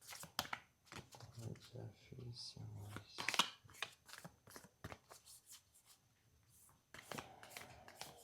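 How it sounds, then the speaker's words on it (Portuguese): Tarot cards being shuffled by hand, a series of quick papery riffles and slaps coming in short bursts, close and soft, with a voice talking at times. "Eu gosto de embaralhar na hora"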